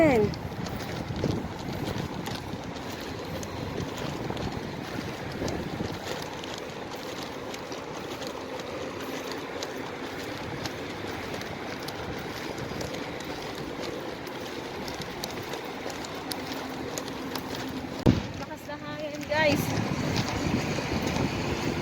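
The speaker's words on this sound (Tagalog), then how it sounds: "Ang lakas ng hangin." Strong wind buffets the microphone with a constant rough rumble. Faint voices and the distant clatter of movement sit underneath.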